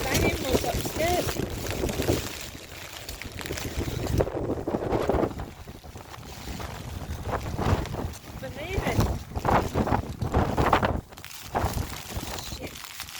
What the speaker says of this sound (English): The wind is awful.